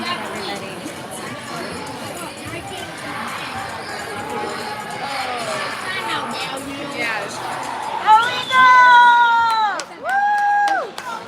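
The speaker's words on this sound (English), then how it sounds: "Good crowd here by Eden Prairie cheering on their team." A crowd at a high school ice hockey game cheers and chatters steadily, with a loud burst of shouting and high-pitched whistling or horn-like tones near the end.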